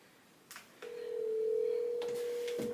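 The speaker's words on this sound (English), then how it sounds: "Actually, let's call her right now" Phone call placed from a handset, a steady single ringback tone holding for about two seconds after a couple of faint clicks, fairly clear and close, with no talking over it.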